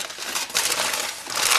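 Aluminium foil being folded in half into a tent over a tray of lasagna gives a close, continuous crinkling and crumpling that swells louder in short bursts.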